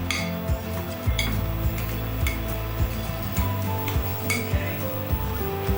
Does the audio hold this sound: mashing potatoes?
yes